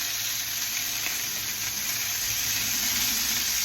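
Sliced onions and peppers sizzling in a hot pan, a loud continuous frying hiss that holds steady throughout with no talking.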